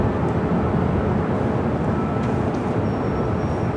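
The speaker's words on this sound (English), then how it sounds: "Next takeoff is Delta Airlines, flight 914, heading to Minneapolis, 737-900ER" A Delta Airlines Boeing 737-900ER jet takes off at LAX, heard as a loud, unbroken broadband engine roar that holds steady throughout.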